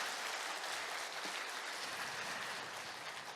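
A crowd at a talk concert applauds warmly and continuously, a full wash of clapping that fades slightly toward the end.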